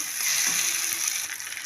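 Eggplant pieces are sautéed in a hot pan, giving a steady, close hiss of sizzling oil with faint stirring underneath.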